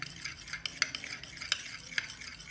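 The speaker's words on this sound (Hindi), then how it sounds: "ये शहद और अदरक का जो रस है ये इसमें काफ़ी अच्छी तरह मिक्स हो जाएगा" A spoon stirring honey mixed with ginger and basil juice in a small vessel, quiet scraping with a few sharp clinks against the sides.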